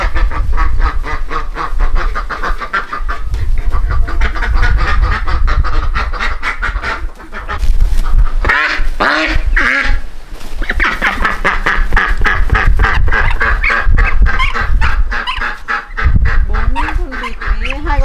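Farm ducks quack and honk loudly and continuously in a dense, overlapping chorus at close range, with a few brief louder bursts and no clear talking.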